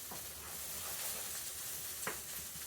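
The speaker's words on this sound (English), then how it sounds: "These onions are probably going to cook for another few minutes" Onions sizzling and caramelizing in a hot pan, a steady close frying hiss with faint stirring scrapes and one brief sharper crackle, no voices.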